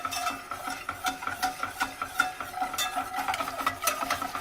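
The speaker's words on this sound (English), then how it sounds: "I gotta really just blend them in there." A utensil stirs eggs into melted sugar in a pot, a steady run of scraping, swishing strokes with small clinks against the metal, close and continuous.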